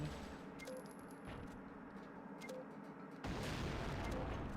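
Grenade blasts from the video game Splinter Cell: Chaos Theory: a dense rumbling burst of explosions and gunfire-like cracks, then a loud sustained broadband roar near the end.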